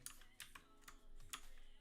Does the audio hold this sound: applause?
no